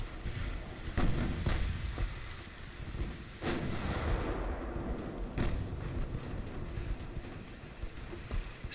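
Heavy naval guns booming in Ultimate Admiral: Dreadnoughts, a battleship duel with scattered deep thuds and sharp reports over a constant rumbling sea-and-engine bed, several shots spread across the stretch.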